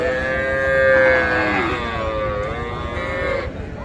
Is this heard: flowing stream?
no